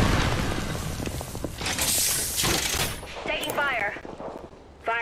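Rapid automatic gunfire from the Apex Legends video game bursts loudly through the first three seconds, layered with booms, then gives way to chirpy electronic effects and a sharp final shot; a voice speaks over the action.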